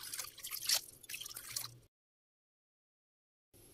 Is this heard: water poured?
yes